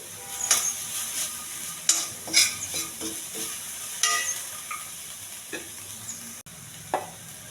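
Ginger garlic paste and green peas fry in a pan for a mushroom curry, with a steady sizzle broken by repeated scraping stirs and clinks of the spoon, close and fairly loud, with no talking.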